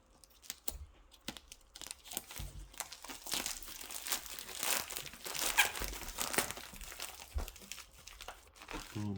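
A plastic pouch holding silver dimes is cut open, giving a run of crinkly plastic crackles and small snipping clicks, close and fairly quiet, building in the middle and then tapering off.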